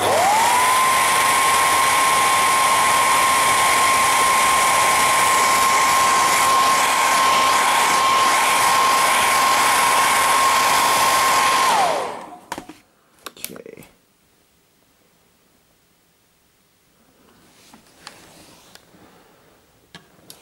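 A heat gun blows steadily and loudly for about twelve seconds on a TV power supply board with a failed optocoupler, then cuts off, leaving a few faint clicks and quiet handling.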